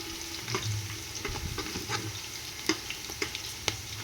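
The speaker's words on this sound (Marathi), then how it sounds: "तर बघू आपलं हे चांगला लाल कलर येईपर्यंत ह्याला ब्राऊन भाजून घ्यायचं" Vegetables frying and being stirred until brown, a soft, quiet sizzle with scattered spatula scrapes and a few sharper clicks toward the end, close by with no talk.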